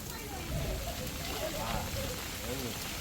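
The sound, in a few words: rain falling on a street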